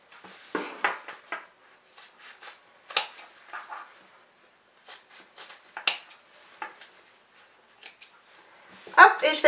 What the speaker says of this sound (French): je vais découper donc ces 4 angles